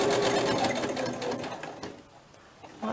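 Sewing machine stitching through netting, a rapid run of close, loud mechanical stitching that slows and drops away near the end.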